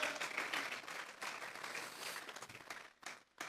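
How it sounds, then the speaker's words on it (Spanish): Church congregation applauding together during a Sunday service, a dense, fairly loud wash of clapping that fills the moment, then breaks off into short pauses and a final burst near the end. "Vamos a regalarle ofrenda de palmas al Dios de la gloria."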